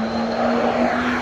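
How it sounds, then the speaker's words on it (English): A new BMW M3 on a race track, a loud steady engine drone held for a moment with a sustained tonal whine, no speech. "It's the first time that I'm seeing M3 driving on the track without a camo"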